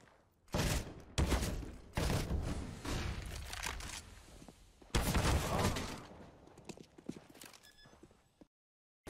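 Bursts of rapid gunfire in Counter-Strike: Global Offensive during an ESL Pro League match, several loud volleys with short gaps between them, tapering off into scattered faint pops before going silent.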